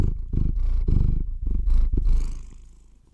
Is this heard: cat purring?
yes